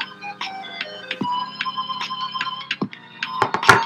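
Bright electronic game music from the gravity zone of the Capuchin remake, with short bell-like melodic notes over a steady low synth pulse, building to a busier burst of sound near the end.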